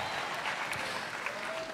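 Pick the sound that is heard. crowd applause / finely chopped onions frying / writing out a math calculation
crowd applause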